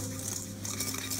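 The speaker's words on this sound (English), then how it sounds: "We're going to mix very fastly." Crema catalana mixture is beaten very fast in a bowl at a cooking school in Barcelona, making a steady, busy scraping and clinking of utensil against dish that stays loud and constant throughout.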